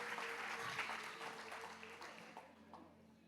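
A church congregation claps in a short, fading round of applause, with a faint steady hum underneath.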